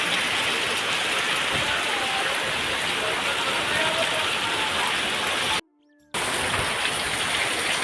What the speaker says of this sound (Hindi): तो बारिश बहुत तेज़ हो रही है